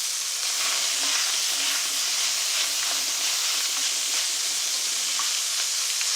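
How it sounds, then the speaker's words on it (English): Ground meat spread out in a hot wok, sizzling and frying with a steady, loud, unbroken hiss that stays even from start to finish. "I'm going to take the meat and spread it out in the wok and give it a chance to brown."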